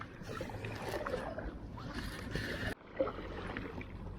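Steady watery swishing of an Itiwit kayak being paddled along a canal at Langley Mill, close and continuous with a brief dip partway through, with no talk over it.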